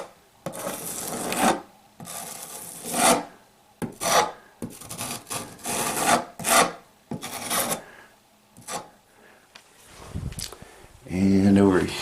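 A drywall knife spreads and smooths mud over manufactured-home wallpaper in repeated rasping scrapes, each stroke a loud gritty swipe separated by short pauses, with a voice speaking briefly near the end.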